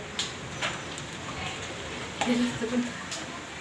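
Heavy unseasonal rain pattering steadily in a dense hiss, close and fairly loud, with a voice speaking over it.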